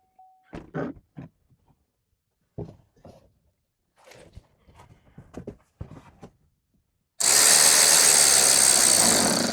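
A Chevy Silverado with a GM 5.3L or 6.2L V8 and a newly replaced starter: after scattered brief clunks and pauses, the engine abruptly catches and settles into a loud, steady, close running roar.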